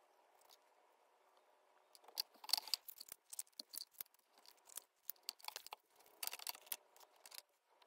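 Scissors snip out a small paper fish shape for a bullet journal page, giving a run of close, crisp cutting clicks and paper rustles that come in irregular bursts, quiet and with no voices.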